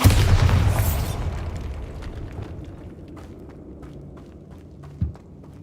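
A Bombarda explosion spell goes off in a video game, a loud booming blast that decays over about a second, leaving a low rumbling ambience and a small thump near the end.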